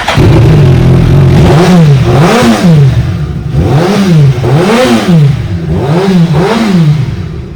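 A Suzuki Hayabusa motorcycle with an aftermarket exhaust revs repeatedly, loud and close, each blip climbing sharply and falling back in a regular rhythm of about six throttle bursts.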